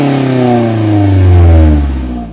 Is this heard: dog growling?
no